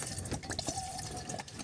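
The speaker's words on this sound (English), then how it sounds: "I've still got some water filtered there to fill this back up again" Filtered water trickles and drips as it is poured to refill a container at a wild camp in the Mourne Mountains, a soft, close liquid splashing with small gurgles over quiet background noise.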